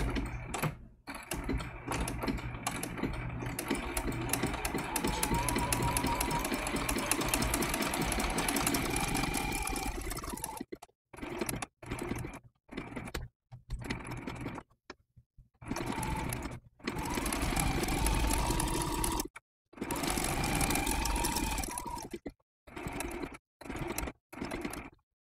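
A sewing machine stitches raw edge applique, with fast steady mechanical whirring in long runs broken by short stops and brief bursts, close and fairly quiet.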